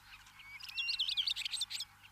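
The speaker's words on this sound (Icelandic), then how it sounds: "Fallegur sú saga að heiðlóan syngi dýrðin, dýrðin" A European golden plover sings a clear, high piping song of rising whistles and quick repeated notes, near and alone over a quiet background.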